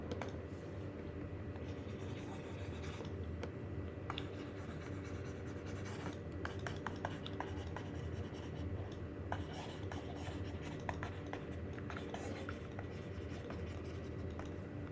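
Marker or chalk writing the second isomorphism theorem on a board during a ring theory lecture, faint scratchy strokes and taps over a steady background hum.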